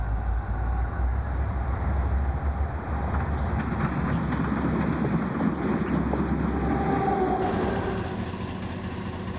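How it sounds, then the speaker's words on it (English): Eastbound Chicago and North Western freight train rolling through the rail diamonds at Rochelle, Illinois, in 1994: a loud, close rumble with wheel clatter and wind buffeting, fading slightly toward the end. "for our final CNW train, we have an eastbound coming through the diamonds at Rochelle,"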